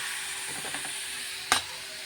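An egg omelette frying in a pan gives a steady soft hiss and sizzle throughout, with faint stirring ticks and one sharp brief crackle or clink midway, no voices.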